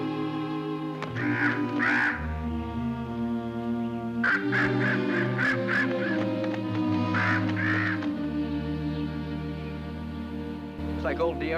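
A crow caws in repeated bursts of harsh calls near the microphone, set over steady background music in a Lassie television episode.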